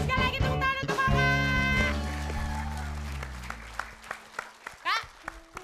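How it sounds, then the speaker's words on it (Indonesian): Studio audience applause for a contestant on an Indonesian variety game show, under a short bright musical sting that rings out over the first two seconds, then dwindles to scattered individual claps and taps. "Sekali lagi tepuk tangan untuk Oka."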